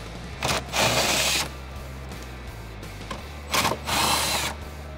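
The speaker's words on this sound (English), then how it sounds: "The next step is removing these nuts on the back side of the hood bumpers." A power tool whirs in two short bursts, spinning off nuts behind the hood bumpers of a Jeep Wrangler JL, close by over a low steady hum.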